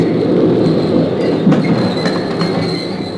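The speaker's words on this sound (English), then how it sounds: "As the train moved into the station" A loud, close train arriving at a station, rumbling along the rails, wheels squealing with a sustained metallic whine and clatter as it moves through.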